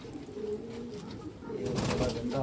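Soft cooing of fancy pigeons, including a saddle fantail, low and throaty, repeating over a steady background hum, growing a little louder toward the end.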